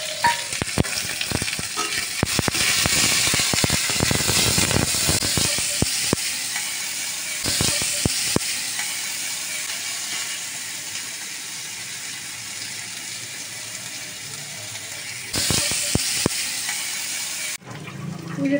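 Onion, garlic and chili hit hot oil for tempering, setting off a loud, steady sizzle with occasional stirring that fades gradually and then briefly flares again near the end.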